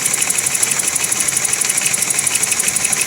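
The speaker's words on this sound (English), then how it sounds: "So we got a misfire on 3 cylinders." A 1988 BMW 528e engine idling with a misfire on three cylinders, giving a steady, close mechanical running sound with a rapid ticking, uneven pulse and no voices over it.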